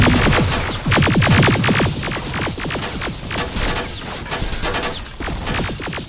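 Heavy gunfire during a battle in Terminator Resistance, dense rapid bursts and overlapping shots rattling continuously and loudly throughout, with some sharper cracks standing out.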